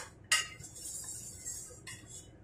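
Utensils clink and scrape against a plate as cooked cauliflower is transferred onto it, with a sharp knock near the start and another a little later, fairly quiet in a still room.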